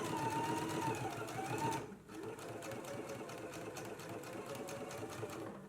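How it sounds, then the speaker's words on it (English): A sewing machine runs a narrow hem on a girls' dress, stitching steadily close by, with a brief dip in the motor's whir partway before it continues at an even pace. "Now we can go ahead and stitch really close to this inner fold."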